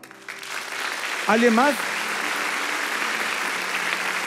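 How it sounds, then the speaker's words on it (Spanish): Congregation applauding a woman during a church sermon, steady broadband clapping that carries throughout, with a voice briefly speaking over it near the middle. "Un aplauso a esta dama"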